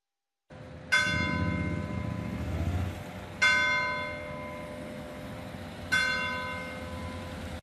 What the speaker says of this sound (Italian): Alle 12 in punto le campane della chiesa cittadina si fanno sentire